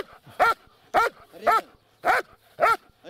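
A dog barks five times in a steady rhythm during a daily morning obedience training session with a handler, each bark loud, close and clearly separated by short pauses.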